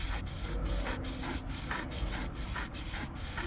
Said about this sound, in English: What this does is it's moving the sandpaper, you know, all across the journal